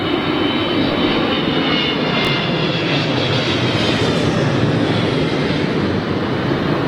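An older -200 series airliner arrives on runway 27L at London Heathrow, its engines producing a loud, continuous, broadband roar and whine that holds steady throughout, close and unaccompanied by talk.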